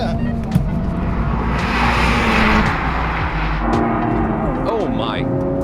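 A 2023 Honda Civic Type R launches hard in a drag race, a loud, sustained engine roar building over several seconds with a pitch sweep near the end, excited voices shouting over it.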